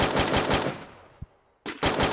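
Rapid automatic gunfire bursts from a Free Fire match in a Copa NFA esports broadcast, loud and close, cutting out briefly before another burst of rapid shots resumes.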